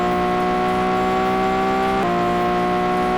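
A Lamborghini V10 engine from the racing game Asphalt 8 holds a steady, loud harmonic drone in a constant loop, its pitch stepping down slightly about two-thirds through, with no voices.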